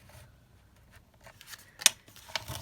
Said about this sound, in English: So I'm just going to bone folder it all down now.